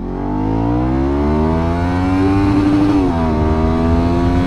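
Motorcycle accelerating hard in first gear, a loud close engine note rising steadily in pitch, then briefly dipping before it climbs again.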